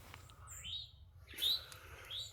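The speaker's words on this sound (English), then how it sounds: "I have a towhee right here." An eastern towhee calls in snowy North Carolina woods, giving three faint rising whistled chirps spaced apart over a low steady background rumble.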